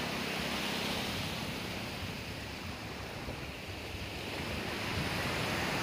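Steady roar of ocean surf washing in continuously, with wind buffeting the microphone throughout; no voices.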